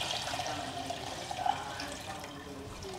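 A bit of water pours into a pot of Ghanaian soup being cooked at home, giving a steady splashing, tap-like stream that runs on for a few seconds without any speech.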